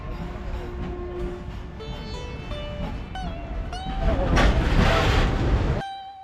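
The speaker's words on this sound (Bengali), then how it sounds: "আমাদের সামনে দিয়ে একটা মালবাহী ট্রেন ছুটে চলেছে।" A freight train speeds past near Panskura railway station with a drawn-out horn blast, a steady rolling rumble of wagons that swells louder as it passes close by, then abruptly drops away.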